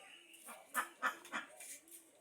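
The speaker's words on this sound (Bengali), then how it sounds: "এই দেখতে পাচ্ছ কোয়েল পাখি আমাদের দেখতে পাচ্ছ তোমরা চীনা হাঁস" Chinese geese give a few short, nasal honks in quick succession, faint and somewhat distant, in a quiet setting.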